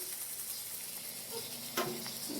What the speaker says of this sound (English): make a tadka. You have to boil oil, add the red chilli